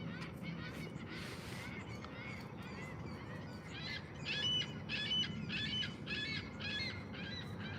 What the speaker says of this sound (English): these damn seagulls get very close